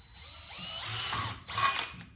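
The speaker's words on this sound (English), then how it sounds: "3mm drill" A power drill with a 3mm bit whirs steadily into 50 x 50mm steel trunking, rising in pitch as it bites, with a brief pause before a second grinding burst close by.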